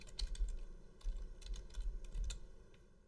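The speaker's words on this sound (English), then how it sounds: "So I would type that in there" Fingers tapping on a computer keyboard, a quiet, uneven run of light key clicks in short bursts with no speech over it.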